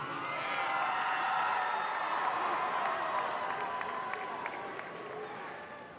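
Graduates at an Ohio University spring undergraduate ceremony cheer and whoop as a broad, steady crowd roar with scattered clapping, sustained and moderately distant throughout.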